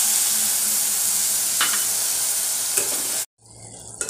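Potatoes and coconut stir-fried in a pan for a Bengali vegetarian thor dish sizzle loudly and steadily, with a few scraping stirs, before the sound cuts off abruptly and then resumes faintly.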